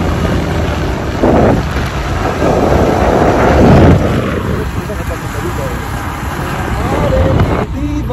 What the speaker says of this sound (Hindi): आगे जी रेत का तूफान आ चुका है